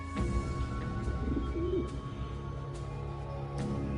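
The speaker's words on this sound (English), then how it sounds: "These are real doves." Real doves held in a magician's special box coo softly through steady background noise and low hum, with a few faint clicks.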